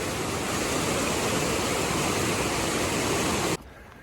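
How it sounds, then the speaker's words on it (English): Near Gannett Peak in the mountains, a stream's water rushes with a steady, loud, broadband roar that holds unbroken for three and a half seconds and then cuts off abruptly. "A lot of water."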